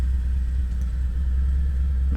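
Steady low rumble of road traffic drifting in through an open window, a continuous car and engine drone with no distinct passes, moderately loud and alone throughout.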